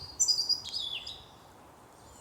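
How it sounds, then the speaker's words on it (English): A red robin chirping outdoors, a few quick, high, bright chirps clustered in the first second, then fading to quiet background hiss. "That little bird is following me, I tell you. Sometimes they do. They're very, very timid, red robins."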